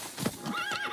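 A horse lets out a single close, wavering whinny lasting under a second, with soft movement sounds beneath it.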